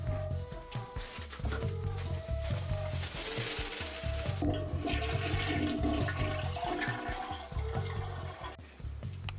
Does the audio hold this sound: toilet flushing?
yes